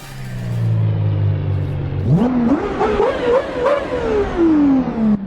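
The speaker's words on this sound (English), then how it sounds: "hear how good the GMA T50 and the Lexus LFA sound" GMA T50 and Lexus LFA supercars: a low idle gives way to a loud, climbing rev that stutters upward through several steps, then slowly winds back down in pitch, close and alone.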